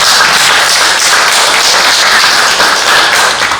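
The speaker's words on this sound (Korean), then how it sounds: "우리 큰 박수 한번 부탁드립니다." A congregation at a Sunday worship service breaks into loud, sustained applause, a dense, even wash of clapping that holds steady for several seconds with no voices over it.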